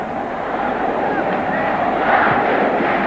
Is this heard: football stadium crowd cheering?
yes